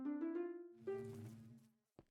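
Radioactive bees in modded Minecraft (All The Mods 10) give off short buzzing drones, one rising tone sliding into a lower hum, then a brief click at the end, quiet and alone.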